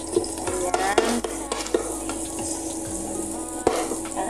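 Garlic and ginger sizzle steadily in a hot pan, with a continuous frying hiss broken by a few sharp stirring clinks and scrapes close by; nobody speaks.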